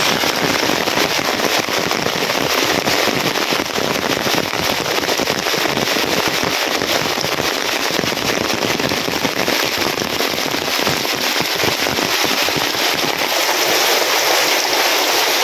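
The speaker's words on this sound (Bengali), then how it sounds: "হায় রে বৃষ্টি রে বৃষ্টি, কি পরিমাণ বৃষ্টি আরম্ভ হয়েছে।" Heavy rain pouring down in a village, a loud, dense, unbroken roar of water that holds steady from start to finish, with no voices heard.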